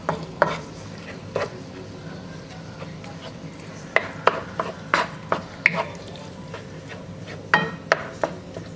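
Ground beef seasoned with salt and pepper browns in a pan while a utensil stirs it, giving irregular scraping clicks and knocks over a soft background sizzle, close and alone.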